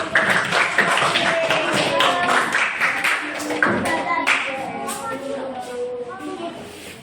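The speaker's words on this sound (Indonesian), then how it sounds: "berikan tepuk tangan" Classroom group presentation audience claps in a short burst of quick, close-up hand clapping that fades over several seconds, with some voices chattering underneath as it tapers off.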